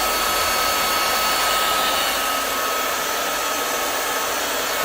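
TMA 6-in-1 rechargeable cordless stick vacuum cleaner running in regular mode, a loud, constant high-pitched whine and airy roar held steady throughout, close up with no speech.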